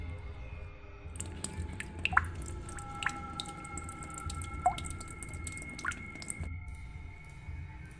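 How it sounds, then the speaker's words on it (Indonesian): Water drips from a roof, a scattered series of small, clear plinks at irregular intervals over a low background hum, with a faint sustained tone in the middle stretch. "tetesan cairan air yang jatuh dari atap menimpa wajahku"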